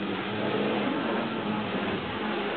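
A Tri-ang Battle Space Turbo Car model runs past on a model railway layout, giving a steady close whirring motor rumble that holds level the whole time, with no voices.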